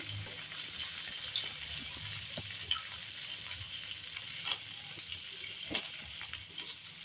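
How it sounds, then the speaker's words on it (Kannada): Paneer frying in ghee in a pan, a steady soft sizzle running throughout with occasional light clicks and scrapes, close by and without talk. "ಈಗ ಪನ್ನೀರ್ ಕೂಡ ನಾನು ಸ್ವಲ್ಪ ತುಪ್ಪದಲ್ಲಿ ಅದನ್ನೊಂದು ಸತಿ ಫ್ರೈ ಮಾಡ್ಕೊಳ್ತಾ ಇದ್ದೀನಿ"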